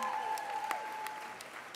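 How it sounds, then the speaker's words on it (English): Brief, fairly soft applause from diners at a 2023 graduation dinner after a song, a steady patter of many hands heard alone, with a thin whistle-like tone briefly sounding over it. "let's give up one more round of applause"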